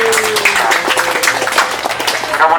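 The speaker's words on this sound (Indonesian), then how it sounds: "Tepuk tangan untuk Kampung Coklat." Crowd applause for Kampung Coklat, the chocolate village in Blitar, during a school industry visit: dense, steady clapping from many hands, loud and close, lasting the whole moment without a break.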